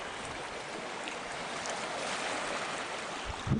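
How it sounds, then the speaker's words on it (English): Water flowing in a deep creek, a steady, close, full-bodied rushing wash that runs unbroken through the whole stretch with no voices. "The creek is very deep right in here too."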